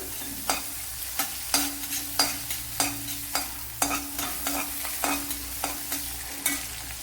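Two green chillies fry in a pan for a Kerala drumstick dish, a soft continuous sizzle broken by regular, sharp spatula scrapes and clacks roughly every half second, close and without speech.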